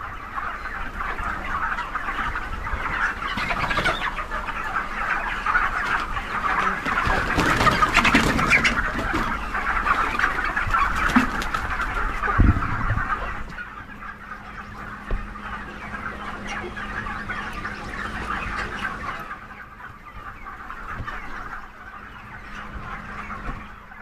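Chickens at a poultry farm cluck and squawk steadily as a dense, busy chorus throughout, growing a little quieter in the later part.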